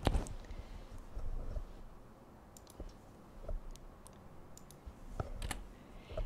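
Light clicking of keys on a computer keyboard as a document name is typed, a few scattered soft taps over low room noise, close and quiet with no talking.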